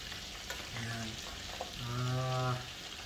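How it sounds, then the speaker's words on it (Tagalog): Tilapia gently stirred through a sautéed mix in a pan for pesang tilapia, a soft continuous frying sizzle with faint utensil scrapes and two short tonal squeaks or hums over the bed. "pasyaw-pasyaw lang para kumalat yung lasa ng ating ginisa mix"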